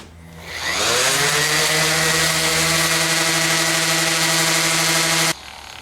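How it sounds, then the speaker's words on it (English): A power sander shapes a wooden guitar neck: the motor spins up over the first second into a loud, steady whining drone with a strong buzzing tone, holds it evenly, then cuts off abruptly near the end. "I'm going to allow the sander to give me that shape"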